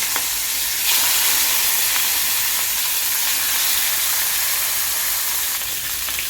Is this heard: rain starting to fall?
no